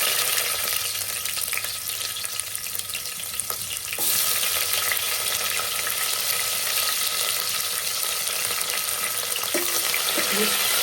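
Chopped onion frying in hot oil with a cumin, mustard and fenugreek tempering for a tamarind-free mango sambar; a steady, dense sizzle runs throughout, growing slightly fuller partway through, with no voices.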